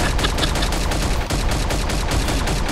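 Rapid pistol gunfire in the video game Milkman Karlson, a dense run of sharp cracking shots with no pauses between them, loud and close, with no talking.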